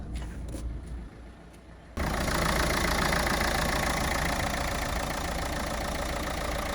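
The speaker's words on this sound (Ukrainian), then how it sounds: "двигун працює рівно, стабільно, не димить нічого" A 2012 Renault Megane 1.5 diesel engine idles steadily with a low, even rumble after a quieter stretch of faint clicks, running smoothly with no talking.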